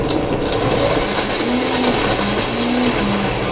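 A Vitamix blender roars steadily as it blends broccoli cheddar soup with cheese, loud and continuous throughout, with no talking.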